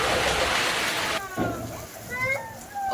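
Steady rain hiss with stormy wind fills the air, with a voice and other talk rising briefly over the downpour.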